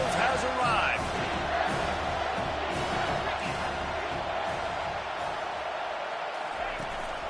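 A big stadium crowd at a Clemson football game roars in a steady, dense wall of cheering and whooping, with a commentator talking over it.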